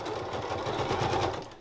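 A sewing machine stitches a seam on a lined beanie, giving a fast, even mechanical whirr close by, running steadily for the length of the clip without talk.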